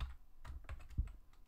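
Quick clatter of computer keyboard typing, a short burst of light key taps close and fairly quiet, with no talking.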